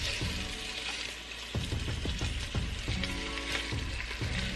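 Beef chunks sear in an Instant Pot with a constant crackling sizzle, punctuated by repeated scraping and stirring knocks as the meat is moved around, fairly close and alone.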